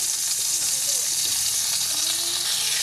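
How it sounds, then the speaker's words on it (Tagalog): Onion, garlic and ginger sauté in Star margarine and a little oil, producing a loud, continuous hiss and sizzle close up, with faint stirring and a hint of background voice. "Now magigisa na ako ng sibuyas, bawang, tsaka luya."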